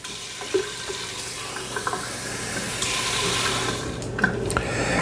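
A steady stream of water runs from a tap with a soft, continuous rush, accompanied by a few faint clinks nearby.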